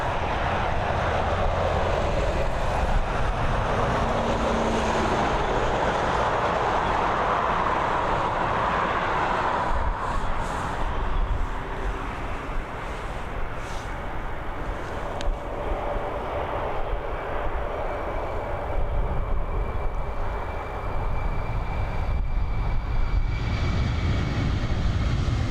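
A 13-year-old Boeing 767 takes off at Dublin Airport, its jet engines roaring loud and broad as it climbs and slowly shifts in tone, with a sustained rumble heard from outside.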